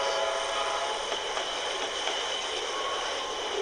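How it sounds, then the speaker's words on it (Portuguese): Train passing near Rolândia, Brazil, recorded from a drone some distance away: a steady, broad rushing roar with faint rolling rail noise and no distinct clicks, holding constant throughout. "o trem já estava acabando de passar"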